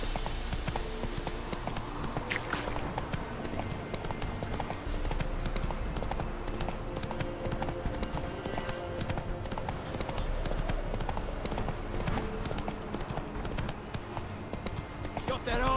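Steady rhythmic clip-clop of a galloping horse in The Witcher 3: Wild Hunt on PS4, loud and close, with a faint whinny and music-like background tones.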